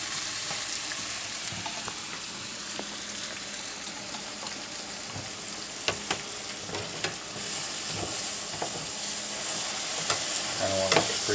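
Beef stock hits a hot pan of vaca frita, giving a steady, fairly quiet sizzle with scattered clinks and scrapes of a utensil over the frying.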